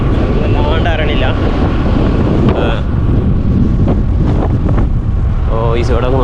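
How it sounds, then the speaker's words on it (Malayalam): Strong wind blowing at a beach, a constant loud roar buffeting the microphone, with a person talking over it. "ഇവിടെ തൊട്ടടുത്തുള്ള നല്ല കാറ്റുണ്ട് കേട്ടോ"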